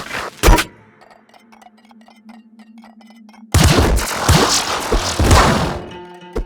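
Gatling Bazooka firing in Nuclear Throne: a heavy thump early, quieter clicks, then a loud sustained barrage of rapid booming explosions.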